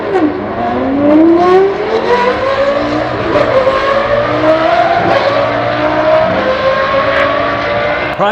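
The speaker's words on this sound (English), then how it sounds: "That's a good sounding car." Twin turbo Corvette race car on a track, loud close engine rising through the gears in repeated climbing sweeps, with a downshift dip midway and steady roaring throughout, no talk.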